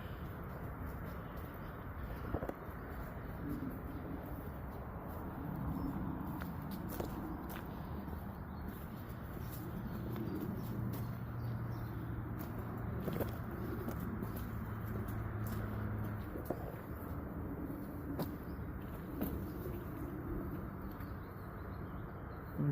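Birds call faintly along a canal towpath on the Leeds Liverpool canal, including cooing pigeons or doves, with footsteps of someone walking under a quiet outdoor background.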